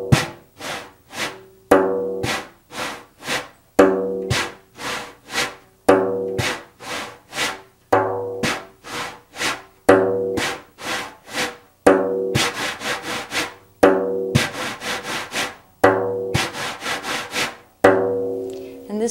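A hand drum is brushed in rhythmic down-up sweeps between sharp strikes, making a steady swishing, rubbing pattern that repeats in even cycles, close and clear with no talk.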